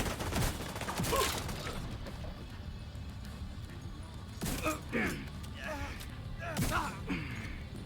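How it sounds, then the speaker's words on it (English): Gunfire in the video game The Division 2, with several sharp shots spread across the clip over a steady background din of game ambience, with bursts clustering around the middle and the end. "Next one's a gunshot, Agent."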